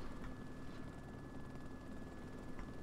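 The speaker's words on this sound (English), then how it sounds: "So there's two choppers up." Two helicopters, one large and one small, fly above an airfield in the video game DayZ. Their rotors make a faint, steady, distant drone that continues without a break.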